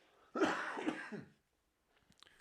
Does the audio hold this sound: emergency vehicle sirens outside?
no